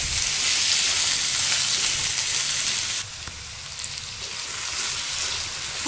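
Cubed potatoes with cumin frying in oil in a pan over a medium gas flame, a steady loud sizzle that dips briefly partway through as the pieces are stirred, then continues crackling on its own.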